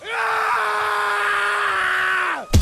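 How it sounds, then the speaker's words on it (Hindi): A man lets out one long, loud, sustained scream of terror that holds steady for over two seconds before breaking off abruptly, in a dramatized Hindi horror story set at a haunted school. "वो जोर से चीखा"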